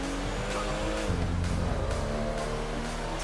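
A car in the video game GTA Online drives and skids, tires squealing repeatedly over a steady engine drone, loud and close throughout.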